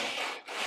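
A single coarse rasping stroke of a file scrapes across the hard surface of a VW Beetle door, harsh and close, with a brief dip midway.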